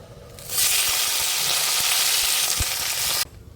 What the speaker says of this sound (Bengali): প্রায় একটু তেল দিয়ে দিলাম, ডিমগুলোকে ভেজে নেব।